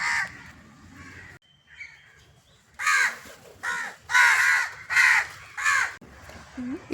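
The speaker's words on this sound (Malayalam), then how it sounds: "കാക്ക" A crow caws loudly several times in a row, close by, with short pauses between the harsh calls.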